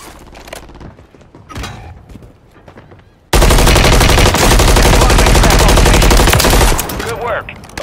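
Heavy enemy gunfire in Call of Duty Modern Warfare III: after a few quieter shots and thumps, a sudden, very loud sustained burst of rapid automatic fire dominates for several seconds before easing off.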